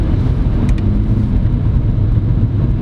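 A 2023 Subaru BRZ automatic sports car cruising gently, with a steady low engine and road rumble and a continuous whir from start to finish and no talking.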